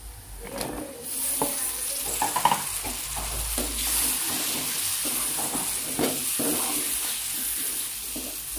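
Taro pieces cooking in a pan with a steady hiss and sizzle, punctuated by scattered scraping stirs and clinks of a utensil, close and moderately quiet throughout with no talk.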